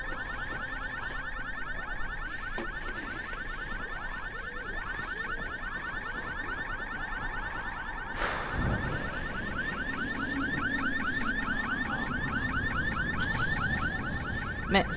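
An alarm rings in the video game Dying Light, a continuous loud electronic warbling tone repeating fast throughout, with a brief thud partway through and no talk.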